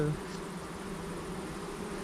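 Honeybees buzz inside a hive at a marsh apiary near the Saône, a dense, steady hum that carries on unbroken and alone throughout.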